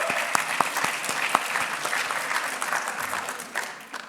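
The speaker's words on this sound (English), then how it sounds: "Have a round of applause." A crowd at a college of medicine awards ceremony gives a round of applause, loud at first with sharp individual claps standing out, then gradually thinning and fading near the end.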